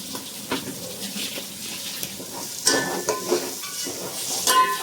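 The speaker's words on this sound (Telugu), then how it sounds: "నేను సరిపోయినట్టు వాటర్ అయితే ఇందులో యాడ్ చేస్తున్నాను" Hot oil sizzles and hisses steadily in a tempering, with occasional clinks of a utensil against the pan and bursts of spattering as water is poured in.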